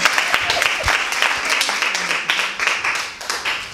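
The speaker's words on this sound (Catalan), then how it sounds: "un aplaudiment per aquesta" An audience at a feminist book presentation applauds, a steady patter of many hands clapping throughout with a few sharper individual claps standing out.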